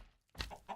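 Chickens clucking in Minecraft Sky Factory 3, a couple of brown chickens among a flock of coloured breeds, giving two short, bright clucks close by with no talk.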